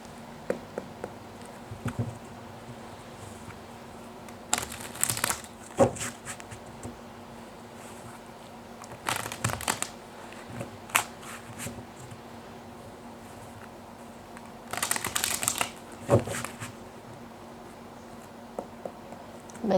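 Tarot cards are shuffled in three brief riffling bursts spaced several seconds apart, close by and otherwise quiet, with no talking.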